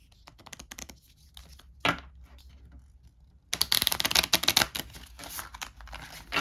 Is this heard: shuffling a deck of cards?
yes